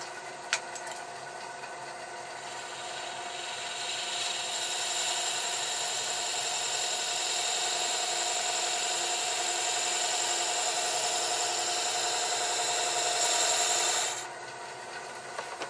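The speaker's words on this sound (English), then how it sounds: "I'm going to take this scraper which I've sharpened to a negative rake slightly. All right, and I'm going to reshape this." A sharpened scraper ground to a slight negative rake cuts a wooden jar on a lathe, giving a steady close rasping scrape that holds for about thirteen seconds before stopping.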